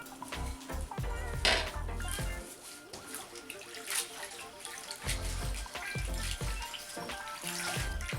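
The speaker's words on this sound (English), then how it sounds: "So first thing what you do is wash it. So I'll wash it and show you how it is." Fresh coriander is swished and shaken in water, making splashing and sloshing with occasional clinks of a bowl or pot, close by and continuous with uneven surges.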